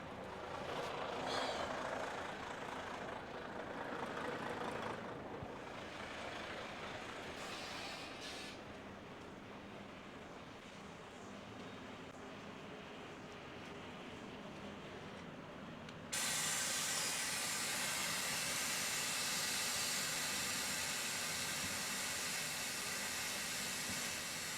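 A big truck with a trailer reverses into a parking spot, its engine rumbling steadily nearby; partway through, a loud, continuous hiss of air joins in and keeps going to the end, with no talking.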